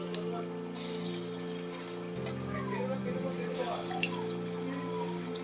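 Semolina fritter batter fries in hot oil in a wok, giving a quiet, crackly sizzle with scattered pops over a low hum. Someone talks over the frying.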